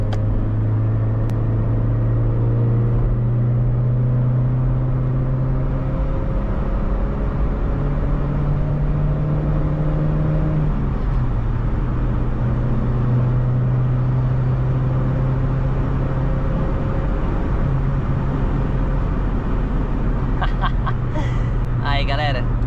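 A 1995 Chevrolet Astra GLS accelerates hard in fifth gear: a steady, loud engine drone climbs gradually in pitch, dips briefly midway, then keeps pulling, heard from inside the car with road rumble underneath.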